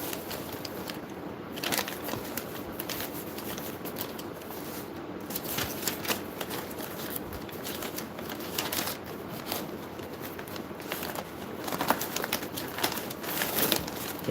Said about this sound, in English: I got to grab this other document.